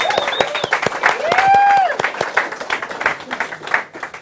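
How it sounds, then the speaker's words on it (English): An audience at an awards ceremony applauds an award winner with dense, sustained clapping and some cheering and whoops mixed in. "And a round of applause for Shannon, guys."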